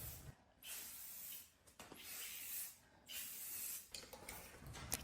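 Short bursts of aerosol spray paint hiss in separate passes with brief gaps between them as thrifted furniture pieces are coated. The spraying is close, soft and quiet, with no talking.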